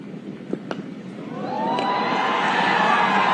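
A cricket crowd at an ODI stadium match between Nepal and Canada, scattered shouts and whistles at first, then swelling into a sustained, distant cheer.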